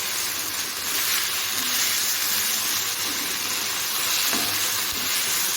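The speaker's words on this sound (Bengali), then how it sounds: "সজনে শাকটা ভাজা করছি" Drumstick leaves frying in a pan in a home kitchen, a loud, dense, unbroken sizzle with a steady hiss throughout.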